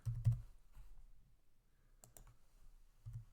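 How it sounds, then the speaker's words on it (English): Sparse keystrokes tap on a computer keyboard while account titles are entered for journal entries, a few quiet clustered clicks separated by pauses, close and faint in a quiet room. "So we can just start with typing out each account title."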